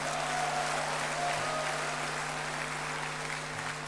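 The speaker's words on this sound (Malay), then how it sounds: "Kita berikan tepukan pada rakan-rakan Friends of BN." A Barisan Nasional convention audience in a large hall claps steadily, a dense, even wash of applause lasting several seconds over a low constant hum, with no talking.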